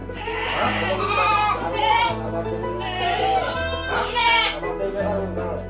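Goats on a goat-rearing farm bleat loudly and repeatedly in several overlapping calls, close by, while someone talks over them.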